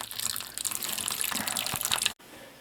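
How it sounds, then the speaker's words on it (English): A toilet flushes in a mobile home trailer, a close rushing gush of water that runs steadily for about two seconds and then cuts off abruptly into near silence. "I'll flush the toilet in the trailer"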